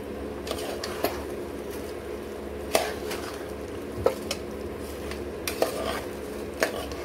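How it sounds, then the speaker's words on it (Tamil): Washed rice being stirred into country chicken biryani masala in a pot: a soft frying sizzle with a spoon scraping and knocking against the metal at irregular moments, close and unaccompanied by speech. "நல்லா கிளறி விட்டுக்கோங்க இப்போவே ரெண்டு நல்லா சேர்ற மாதிரி கிளறிக்கோங்க"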